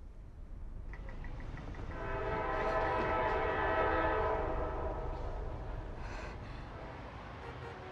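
A train horn sounds at Beijing railway station, a long sustained blast rising out of a low background rumble and fading after several seconds, heard at a moderate distance with no talk over it.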